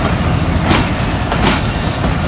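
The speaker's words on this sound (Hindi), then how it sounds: "मिलत एक्सप्रेस आगे बढ़ गई है कराची कैंट के लिए।" The Millat Express of Pakistan Railways, with new CRRC Tangshan coaches behind locomotive 8321, rolls past loud and close in a continuous roar with rhythmic wheel clatter and faint metallic squeal.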